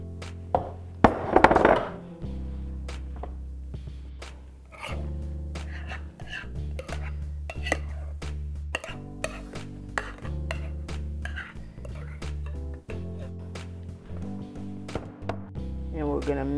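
Colored ice cream being mixed in a bowl, with scattered clinks and scrapes of a utensil against the dish alongside close, steady kitchen clatter; no one speaks.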